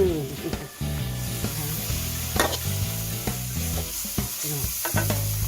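Squid stir-fried with holy basil in a hot pan, with a steady loud sizzle and repeated clanks and scrapes of a spatula stirring, close up and with no talk.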